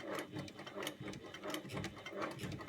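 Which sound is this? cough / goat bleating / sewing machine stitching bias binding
sewing machine stitching bias binding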